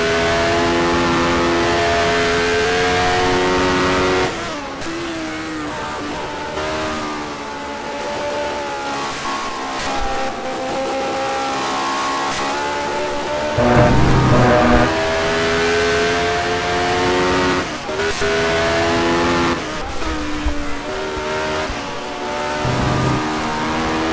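Historic Ferrari with a V12 engine and a Lotus racing in a sim racing game: loud, steady engine roars with rising revs and harmonic whine, brief drops at gear changes, continuous and close throughout.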